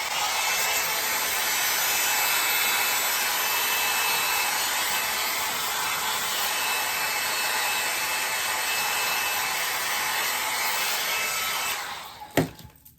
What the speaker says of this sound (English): Let me get my blow dryer and get that out of there.